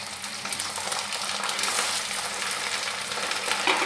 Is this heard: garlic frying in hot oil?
yes